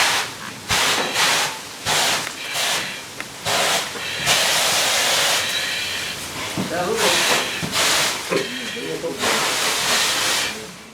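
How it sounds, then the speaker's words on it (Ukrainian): A water fire extinguisher for wooden churches sprays a fine mist jet in repeated loud hissing bursts, several short blasts and one long one, alternating with someone speaking. "Для дерев'яних церков найбільш ефективні водяні вогнегасники, які дають дрібнодисперсний"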